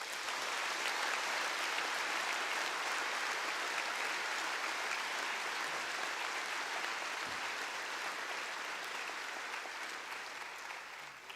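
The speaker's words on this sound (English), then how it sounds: "Please, a round of applause for all of them." Dense applause from a large crowd at a bar passers' oath taking ceremony fills the air, holding steady before slowly tapering off toward the end.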